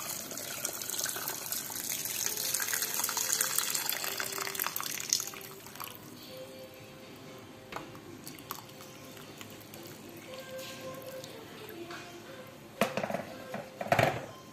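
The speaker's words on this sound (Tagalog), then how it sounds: "Lagyan na natin siya ng tubig." Water gushes steadily into a large pot holding coconut soup ingredients for steaming, loud and continuous for about five seconds, then fades to a quieter trickle with a few clinks near the end.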